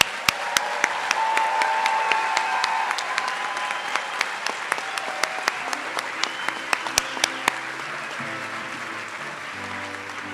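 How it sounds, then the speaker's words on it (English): Graduation ceremony audience applauding graduates in a large hall, a continuous wash of clapping with sharp individual claps up front throughout. "could I have one and last final round of applause for all of our graduates?"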